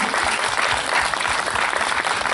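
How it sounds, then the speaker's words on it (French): Loud, dense applause from an audience at a round-table event on the Dalai Lama's contribution to world peace, continuous clapping throughout. "On les applaudit très fort."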